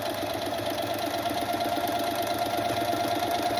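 A sewing machine stitches scrap fabric cut from thrift-shop shirts, running in a steady, continuous mechanical whir with a fast regular rhythm, close and moderately loud throughout.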